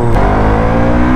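A KTM RC 200 GP Edition motorcycle revs hard while riding at night, its exhaust a loud, steady, droning roar heard close up that holds without a break.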